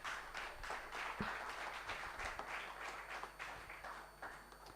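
Applause from an audience at a university sports-marketing round table during a sailing event, broad and steady with scattered sharper claps throughout, fairly distant and moderately loud.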